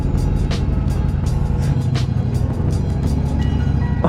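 Ducati Diavel V4 motorcycle engine running close by, a loud, dense, steady roar with rapid throttle blips and sharp bursts throughout, no voices.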